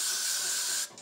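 Hairspray sprayed onto a drag king styling wig in a steady, loud hiss lasting about a second, cutting off abruptly near the end with a brief final puff.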